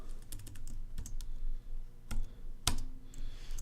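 Keys on a computer keyboard clatter in short irregular bursts, close and crisp, with one sharper louder keystroke near the end and no speech.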